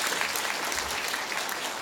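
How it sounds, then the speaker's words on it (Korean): Audience applause fills a Korean parliamentary forum for the secretary-general after a fiery political speech, a steady, dense clapping that holds loud and even throughout with no voices over it. "우리 박태우 사무총장님한테 다시 한번 뜨거운 박수 보내주시기 바랍니다"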